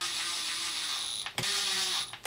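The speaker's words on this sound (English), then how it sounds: "This is like an impact screwdriver, so I go slow at the end." Impact screwdriver driving screws into a Traxxas Sledge RC truck, a steady whirring motor whine that stops briefly, then short sharp ratcheting clicks as the screw seats, close and clear.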